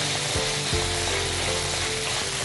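Garlic and ginger paste frying in a pan for teriyaki chicken, a steady loud close sizzle throughout with a brief stir or clink, no speech.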